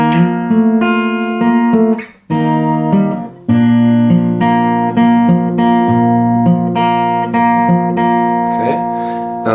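Plucked acoustic guitar notes ripple in a steady fingerpicked pattern, bass notes alternating under higher strings, with a brief break before the picking resumes.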